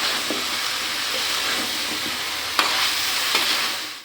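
Mixed vegetables being stirred into fried spices in a pan for a Bengali-style chickpea dal bhaji, a loud continuous sizzle close up with a few soft scrapes of the spoon and no talking.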